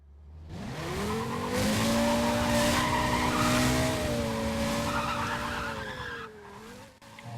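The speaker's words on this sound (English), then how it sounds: "Doesn't that V10 sound good?" A Porsche Carrera GT's V10 engine holds a loud, sustained howl while the tires squeal in a long skid, steady and close, easing off near the end, in the racing game Need for Speed World.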